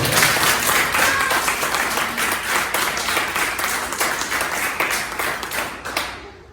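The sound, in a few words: congregation applause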